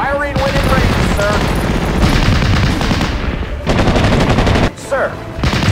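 Machine gun fire crackles in a Steel Division: Normandy 44 battle, loud dense bursts of rapid shots with short pauses, game voices calling out between them.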